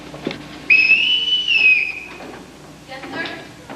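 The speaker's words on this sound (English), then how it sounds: "Everyone in this house answers to a whistle." A shrill, sustained whistle blast rings out loudly for about a second, with brief voices and movement before and after it.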